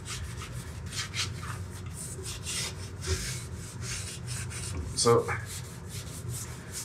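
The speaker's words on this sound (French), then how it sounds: "vous frottez vraiment partout, surtout sur les bords, c'est là que ça s'accumule" Ash being rubbed over the glass of a wood stove to clean it, a steady soft scrubbing and rasping close by, with a brief louder scrape near the end and a few spoken words.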